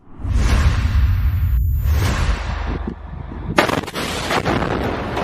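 Gunfire aimed at Israeli tanks: a loud, sustained roaring blast with a whooshing tail, followed a few seconds later by a sharp crack and a fresh burst of fire, all close and heavy.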